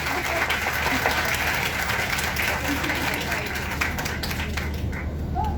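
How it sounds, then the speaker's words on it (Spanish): Audience applause during a youth literature talk at the Rosario book fair, a steady, dense wash of clapping from a crowd that holds at an even level throughout, with some voices mixed in. "Sí, aplausos."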